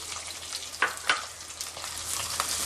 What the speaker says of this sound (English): So I'm going to saute these onions in the shallots